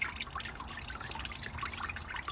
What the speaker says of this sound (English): we finally have the water coming back out of the block nice and clear